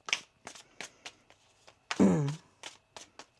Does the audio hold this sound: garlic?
no